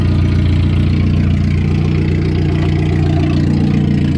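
A 1994 Suzuki Sidekick mud truck engine idles with a steady, close, loud rumble and even, unbroken rhythm throughout, with no voices.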